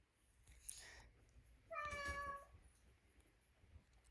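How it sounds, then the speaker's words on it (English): A house cat meows for attention, one drawn-out, fairly faint cry preceded by a brief rustle, set in a quiet room. "if you hear the meowing, that is my cat"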